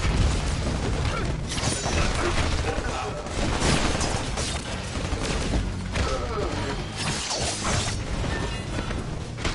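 Artillery barrage in the video game Marvel Ultimate Alliance 2: dense, continuous booms, bursts of gunfire and crashing impacts, loud and chaotic throughout.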